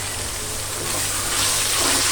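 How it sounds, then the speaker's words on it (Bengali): Water poured into a cooking pot of spicy curry with salt, before braising with potatoes; a steady, close gushing pour runs for about two seconds with no one speaking. "আমি এটাকে একটু পানি দিয়ে ভালো মতো"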